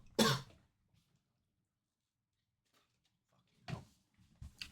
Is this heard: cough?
yes